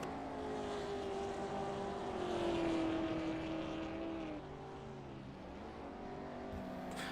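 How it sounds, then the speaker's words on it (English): Race car engines in a racing video game at the Oran Park circuit, a steady droning whine rising slightly in pitch then easing, heard faintly and continuously with no voices over it. "there was some sort of wheel spin going on from possibly that Cilium's car ahead"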